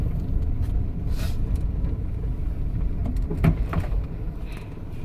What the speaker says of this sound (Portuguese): Então eu tô aqui simulando arrancadas. Andar, desligar, arrancar.